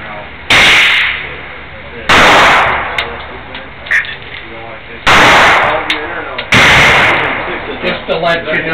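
Four loud, close gunshots from a short-barreled handgun crack out at uneven intervals, each with a booming outdoor echo, while people talk quietly between the shots.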